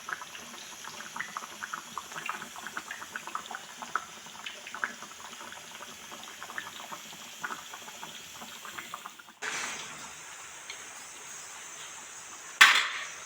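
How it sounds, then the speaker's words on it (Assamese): Local chicken meat curry bubbles in a pot as a faint, soft stream of irregular pops and gurgles, followed by a brief change in texture and a short sharp clatter near the end. "উতলি আছে মাংস মোৰ।"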